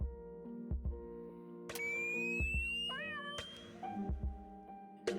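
A cat meows several times, each call clear, near and loud over quiet electronic tones in the room, with no talking.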